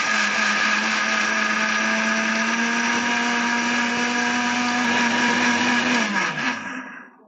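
A mixer blender grinding dry rice coarsely for phirni, with a loud continuous whirring drone that holds steady for several seconds, then winds down and stops near the end.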